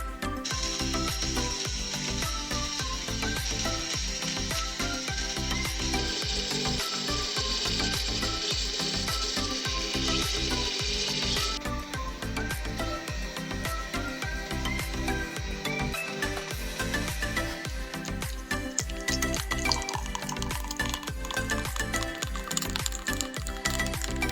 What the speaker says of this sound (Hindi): अब अच्छी तरह से हम मिक्सर में इसको ब्लेंड कर लेते हैं